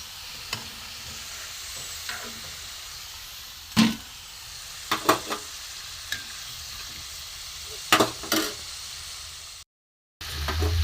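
Malai chop pitha deep-frying in hot oil, a steady soft sizzle with a few sharp clinks and scrapes of a utensil against the pan, close by and with no one talking.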